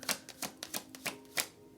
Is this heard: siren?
no